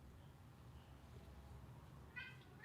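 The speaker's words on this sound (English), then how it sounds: "You got a cat in the background there, Rob?" A cat meows faintly in the background, with a couple of short, high cries near the end over a steady low room hum.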